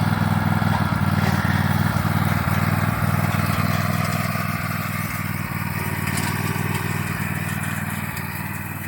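A lawn mower engine runs at low throttle while towing a John Deere lawn sweeper through cut grass for hay, a steady close rumbling drone that eases slightly in the latter half.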